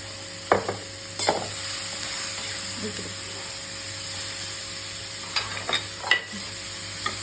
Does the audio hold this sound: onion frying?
yes